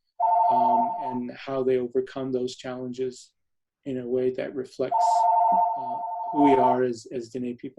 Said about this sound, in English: Excuse me, sorry for the phone there.